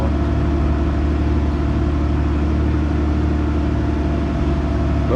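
A 673 hp Fendt 1167 Vario MT tractor engine runs steadily under load while pulling a 2,000-gallon wagon, a loud continuous low drone with no speech.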